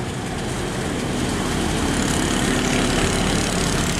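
The engine of a huge river barge throbs in a loud, continuous low rumble mixed with broadband noise, steady throughout with no voices.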